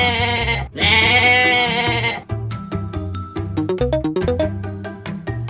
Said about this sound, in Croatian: Planinska koza.